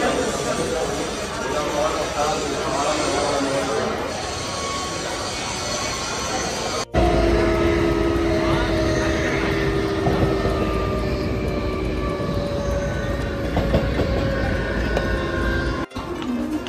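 A train at Thane railway station fills the scene with a loud, continuous rumble and roar, with a brief break near the middle, while people talk over it.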